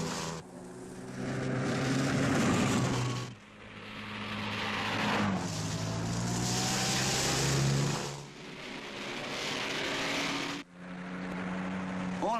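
An MGA sports car on the Monte Carlo Rally, sliding along roads through the Ardennes, its engine roaring and revving loudly and close, with pitch rising and falling through several surges and brief dips.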